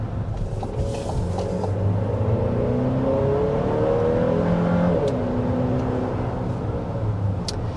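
Engine revving heard from inside a 2026 Chevy Traverse, a steady droning roar that climbs in pitch, muffled and continuous throughout.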